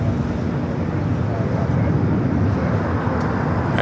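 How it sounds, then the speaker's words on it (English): A Boeing 767 jet touches down at LAX, a loud, steady low-frequency roar that holds throughout, with a broad rumbling texture and no distinct peaks. "It's the 767, Flight 767, coming in from JFK, touching down here in the south"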